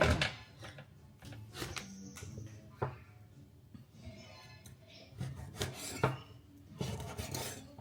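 Hard, rasping cuts and scrapes of a knife working through hard pork bones, in irregular bursts with knocks and clatter between strokes, close by.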